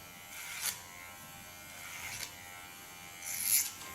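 Cordless electric hair clipper with ceramic blades cutting hair: a close, steady buzz that swells in three passes, each pass louder and brighter as the blades bite into the hair.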